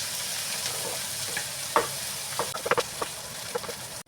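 Curry leaves fry in hot oil for an okra stir-fry, giving a steady sizzle broken by sharp pops and crackles near the end.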